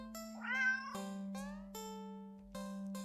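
A standard black cat in a video game gives a drawn-out, rising meow, close and clear over a steady droning game tone with soft electronic chimes.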